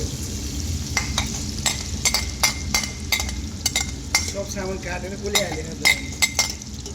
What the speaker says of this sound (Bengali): মিক্স ভেজিটেবলটা দিয়ে দেওয়া হলো মিক্স করো